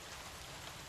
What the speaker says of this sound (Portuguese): Caramba, tá chovendo,